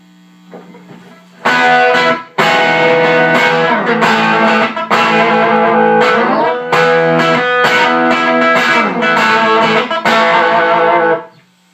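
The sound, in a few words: electric guitar through tube amp with boost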